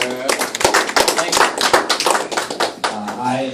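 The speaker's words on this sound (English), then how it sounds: "So let's give them a round of applause, please." Members of a Democratic club audience clap at an evening meeting, a short burst of dense, close hand claps that rises and fades with a voice briefly heard at the end.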